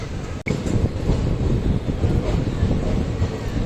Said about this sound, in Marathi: This is Lonand MEMU train, central railway centre